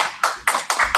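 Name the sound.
audience applause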